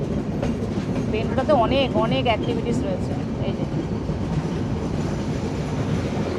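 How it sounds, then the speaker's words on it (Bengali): A train runs along the rails near Bentota, Sri Lanka, with a steady loud rumble, rhythmic clatter and brief metallic squeals, while a person talks over it throughout. "আগে আমাদের ট্রেনটা যাবে"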